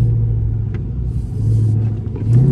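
A 2020 Dodge Charger Scat Pack widebody with a 392 Hemi in track mode gives a steady, loud low rumble from close by, swelling slightly toward the end.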